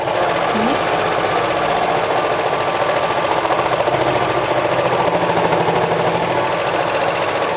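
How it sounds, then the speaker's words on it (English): A serger sews a pleat into the skirt section of a knit cardigan, giving a loud, close, continuous rapid mechanical hum that holds steady with slight shifts in tone as it crosses the bulk. "because the pleat has like extra bulk, so you don't want to upset your serger."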